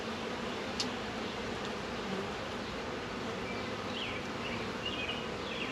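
Honeybees in a swarm trap buzz in a steady, faint, dense hum that carries through with no pauses and no voices.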